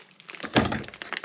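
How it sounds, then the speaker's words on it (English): A knife cuts through cheese in a single brief, dull thunk with a slight crack, close and fairly quiet, heard alone. "so I'm gonna cut the cheese back."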